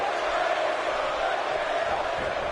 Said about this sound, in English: As the crowd is chanting, Bray's going to kill you.